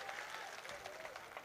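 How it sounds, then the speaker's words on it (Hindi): An audience applauds at a poetry gathering held in Kochadhaman, Kishanganj, in Bihar, and the clapping is dense and continuous, quite far off and faint, with crowd murmur mixed into it. "ऐसी तालियां आपने बिहार का सम्मान में बजा दिया"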